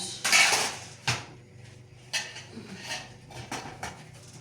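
A spoon is picked up from among dishes, giving a few sharp metallic clinks and clatters of cutlery against crockery, close and fairly quiet, with short pauses between the knocks.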